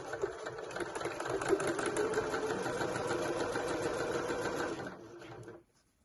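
Sewing machine stitching a 1.5 cm seam along a fabric shopping bag, a close, steady rapid whir for about five seconds before stopping abruptly.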